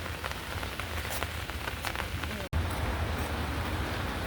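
Rain falls at Suseongmot lake in Daegu, a steady close patter on surfaces with no break apart from one brief dropout.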